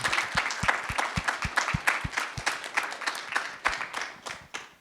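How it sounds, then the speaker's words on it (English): A small audience gives a short round of applause, the individual hand claps distinct and uneven, rising and trailing off over a few seconds at moderate volume. "Can we just give her a round of applause?"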